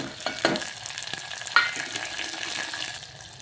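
Onion and tomato frying with chilies in a pan for poha, a soft sizzle with a couple of stirring clatters near the start.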